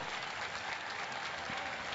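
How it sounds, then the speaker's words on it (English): Spectators at a state fair llama costume competition applaud, a dense, muffled wash of clapping from a crowd outdoors, steady and moderately loud with no clear voices. "So a big round of applause for Bonnie Imker and her llama,"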